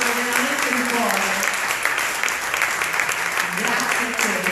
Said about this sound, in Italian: Un applauso veramente di cuore.